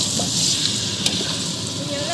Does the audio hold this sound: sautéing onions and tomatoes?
yes